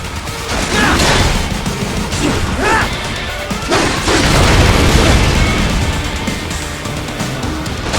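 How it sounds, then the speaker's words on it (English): A missile explodes in the Metal Gear Rising: Revengeance video game amid continuous loud crashes, booms and smashing impacts that swell and ebb over several seconds. "Catch that missile before it blows!"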